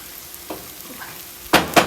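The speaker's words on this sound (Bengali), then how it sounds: "দিয়ে একটু পানি দেব" Water poured into a hot pan of fried onion with green and red peppers, a quiet simmer broken by two sharp, loud sizzling bursts near the end.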